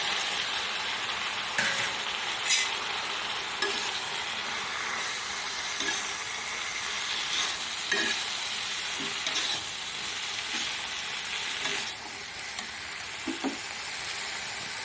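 Pumpkin shoots, potatoes, masoor lentils and raw chickpeas fry in a pan over a raised gas flame, giving a steady close hiss of sizzling with scattered scraping knocks from stirring and no talking.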